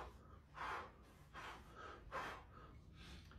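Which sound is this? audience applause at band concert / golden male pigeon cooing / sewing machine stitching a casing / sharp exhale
sharp exhale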